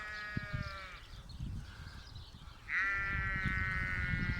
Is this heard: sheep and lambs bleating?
yes